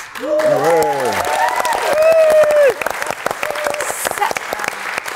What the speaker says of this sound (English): I think we need a massive round of applause for Gloria Hunniford